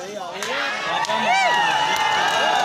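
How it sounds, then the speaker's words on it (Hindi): A crowd at a desi kabaddi semifinal cheers and whoops loudly to welcome a guest. Shouts rise and fall above a steady wash of voices throughout the short burst. "एक बार दर्शक दीर्घा से मैं चाहूंगा जोरदार ताली से स्वागत हार्दिक अभिनंदन करें"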